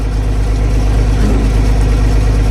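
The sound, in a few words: International Harvester 1586 tractor engine running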